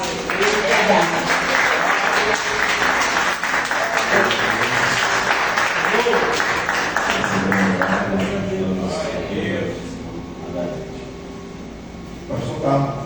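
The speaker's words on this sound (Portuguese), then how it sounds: "aplausos para Jesus" A church congregation applauds in a long, full round of clapping mixed with voices and cheering, gradually thinning as it goes on.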